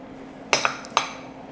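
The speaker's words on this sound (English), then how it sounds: "So I'm gonna add my potatoes. And I'm gonna add onions," Chunks of potato and onion drop into a soup pot, giving three sharp clinks and clatters spaced close together against a quiet background.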